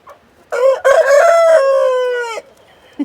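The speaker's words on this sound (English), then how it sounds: "Let's hear you crow." A backyard rooster crows once, loud and close, a long drawn-out call that rises and then trails off, standing alone in a quiet setting among a flock of chickens at chore time.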